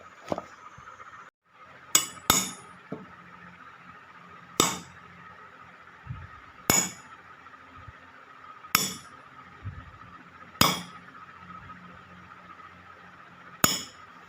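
Sharp hammer strikes on the sole of a football boot being patched, about eight blows at a steady, unhurried pace, each ringing briefly with a metallic click. No one is speaking.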